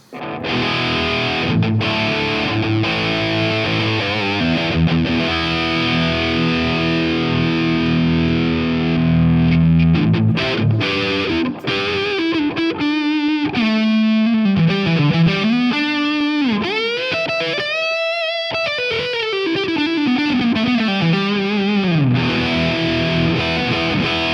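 A heavily distorted electric guitar with active pickups, boosted by a pedal into an Evil 800-style high-gain amp profile, plays chugging chords, then a bending, wailing solo line, loud and saturated throughout.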